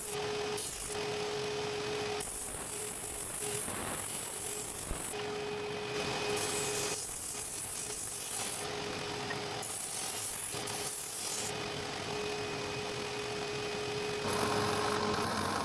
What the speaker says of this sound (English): I start by shaping the outside of the large rings with a disc sander until I get the right thickness of the walls